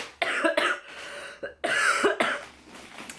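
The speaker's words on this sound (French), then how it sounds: "J'espère que je ne vais pas tousser comme ça tout le long" A series of harsh coughs close to the microphone, several sharp bursts in quick succession with a short pause in between, no talking.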